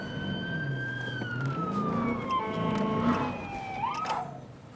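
A police vehicle running code 3 sounds its siren, which rises and falls in clear wailing sweeps with road and engine noise underneath.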